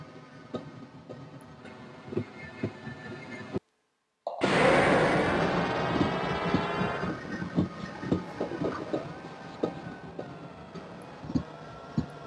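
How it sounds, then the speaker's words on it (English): Rolling train noise with rhythmic clicks in the video game Half-Life 2: Episode One, a brief silence, then a loud rushing surge that fades into steady rumbling and ticking. "This train's very noisy."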